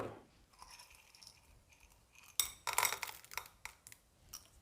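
Chocolate chips being stirred into bowlcake batter in a bowl: quiet scraping, then a few sharp clinks and clatters of a utensil against the bowl, close and without talk.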